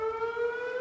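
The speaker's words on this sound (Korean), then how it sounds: "화창한 6월 하늘 아래 추모 사이렌 소리가 울려 퍼집니다." A memorial siren sounds on Memorial Day in Korea, a steady, loud, sustained wail holding one pitch without pause or voices.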